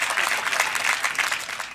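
A lively burst of audience clapping rings out at a Hindi poetry gathering under a pandal, dense and close throughout the short moment.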